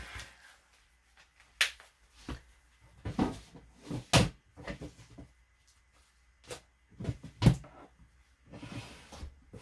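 Drawers in a craft studio being pulled open during an organizing session, a series of short wooden knocks and slides spread irregularly, fairly close and moderate in level, with no talk.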